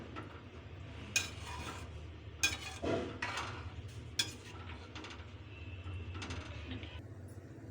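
A spoon clinks and scrapes against a pot while avul payasam is stirred with milk: a few sharp metallic knocks spaced a second or so apart over a low, steady background hum.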